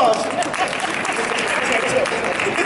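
An audience breaks into sustained, even applause, a dense wash of clapping that holds steady at full volume for the whole stretch.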